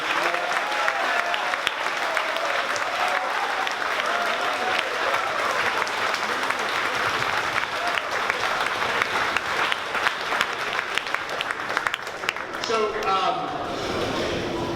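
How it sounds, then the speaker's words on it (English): A whole-school assembly at a closing convocation applauds award recipients, sustained loud clapping from a large crowd in a hall, with some voices mixed in before it thins out near the end. "can we applaud all of our recipients once more?"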